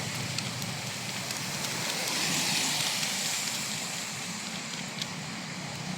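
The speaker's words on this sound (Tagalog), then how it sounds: "Ayun guys, umulan na." Even hiss of rain falling steadily on surfaces nearby, swelling slightly midway, with faint scattered drips and no talking.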